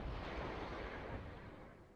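Artillery fires in the video game Wargame: AirLand Battle: a loud, dense, broadband roar that fills the moment at full strength and then fades slowly, with no voices over it.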